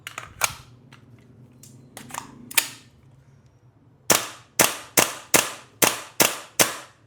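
Airsoft gas pistol fired in a quick string of seven sharp, loud cracks at an even rhythm until the slide locks back empty, preceded by a few scattered clicks and handling noises.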